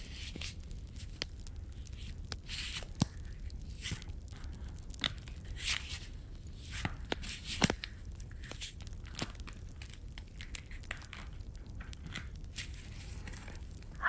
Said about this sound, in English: I'll give these a shuffle.